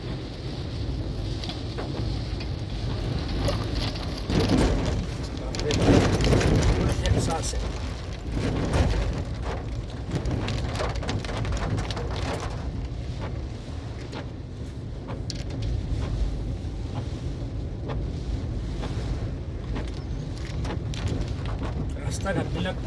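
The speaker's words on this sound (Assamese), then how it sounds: "বতাহ দেখিছেনে কেনেকৈ বতাহ দি আছে?" Strong wind and rain outdoors, with trees bending in the storm, make a steady roaring rush with stronger gusts midway. A voice talks over it throughout.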